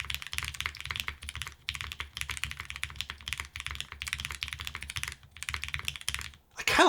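Someone types steadily on a Juna computer keyboard with a light spacebar. Dense, close key clatter runs in quick bursts with brief pauses, then a final sharper stroke.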